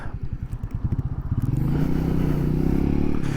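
Motorcycle being ridden, its engine firing in a rapid, pulsing chug that smooths into a sustained, rising drone as the bike pulls away under acceleration, loud and close with no talking.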